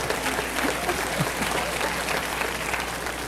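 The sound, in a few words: audience applause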